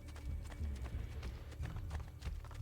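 Rhythmic clip-clop of horse hooves trotting steadily in the video game Assassin's Creed, fairly close and continuous, with no voices.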